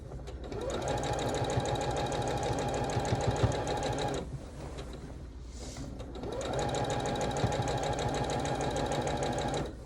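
A sewing machine runs stitching a barn star sampler quilt, a fast even whirring hum close by that stops for about two seconds midway, then starts up again and keeps running.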